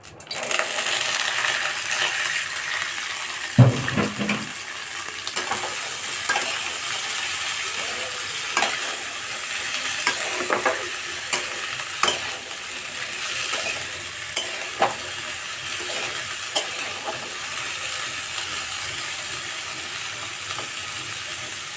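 Figs sizzle steadily as they fry in hot oil in a wok, with repeated scraping stirs and light metallic clinks against the pan throughout, close and continuous with no talking.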